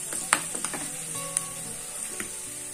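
Washed, chopped hibiscus leaves sizzling in hot oil in a pan for hair oil, a steady crackling hiss with sharp pops and spatters, close and alone, with no talking.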